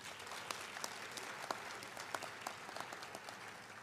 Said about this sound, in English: Can we give another round of applause to our awardees?